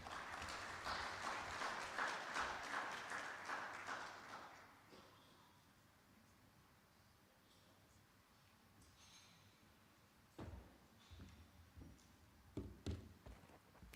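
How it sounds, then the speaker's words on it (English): An audience claps loudly for several seconds to welcome a speaker at a live-streamed event. The applause fades into quiet room noise, followed by a few scattered thumps and taps. "please welcome Dagmawit with a round of applause"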